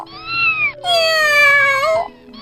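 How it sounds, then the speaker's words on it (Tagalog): A cat meows twice up close and loud: a short meow, then a longer drawn-out one that trails off. "nang magsalita naman si Puring, ang nasabi na lang niya ay, "Meow!"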